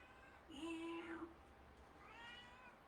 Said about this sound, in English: My cat Cyrano